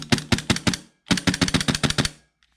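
An ASG CZ P-10C CO2 airsoft pistol fires two strings of rapid, sharp snapping shots, about five, then a short pause, then about eight more, close and loud, ending with a faint click.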